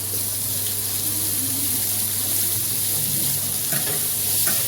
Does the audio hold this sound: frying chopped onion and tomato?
yes